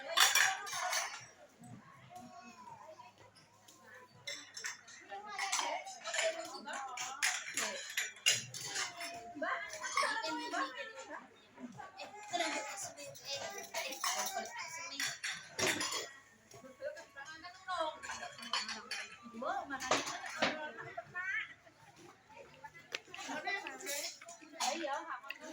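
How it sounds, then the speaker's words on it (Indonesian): Dishes and cutlery clink and clatter as plates are wiped clean while preparing for a Javanese wedding reception, scattered close knocks under ongoing chatter and background voices. "Piring-piring dilapi ben resik."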